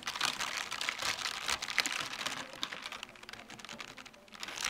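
Keys of a Logitech G915 TKL low-profile keyboard with tactile brown switches rattle and clack in quick, uneven bursts as hands brush and rest on them, close up and fairly quiet, with no voices.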